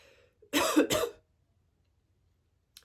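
A single gross, wet cough burst in two quick heaves, close and fairly loud, followed by quiet and a tiny faint tick near the end.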